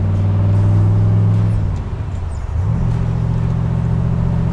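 A black 1966 convertible's 427 engine, freshly rebuilt along with its transmission and driveline, runs loud and close in a steady low rumble that briefly dips and then settles back into an even idle.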